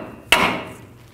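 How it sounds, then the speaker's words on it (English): A hammer strikes the bottom of a front inner tie rod on a 2000-06 GMC Yukon to knock it free from the steering knuckle: one sharp, loud metallic blow that rings and fades over about a second. "take a hammer and just hit the bottom of the tie rod to release it from the knuckle"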